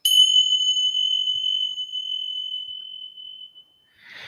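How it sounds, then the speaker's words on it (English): Small bells are struck together once and ring in a clear, bright, sustained tone. The ring fades slowly over about three and a half seconds in a quiet room, followed by a brief soft rustle. "you strike the bells together, and here they're still ringing a little bit"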